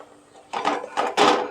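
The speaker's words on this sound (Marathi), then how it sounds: "तर आपण हे सर्व मसाले आपले मस्तपैकी परतून घेऊ तेलामध्ये" A utensil scrapes and knocks in a pan while Malvani masala and garam masala are stirred into oil, three short dense bursts after a quiet start, close and clear.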